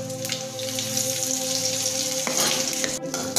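Dried red chillies and urad dal sizzle in hot oil with a steady crackling hiss and a few pops, close and fairly quiet, with no voices.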